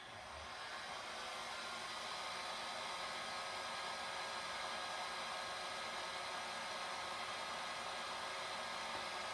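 A hair dryer blows steadily on alcohol ink, a continuous loud whooshing motor roar that holds even from start to finish with no voices.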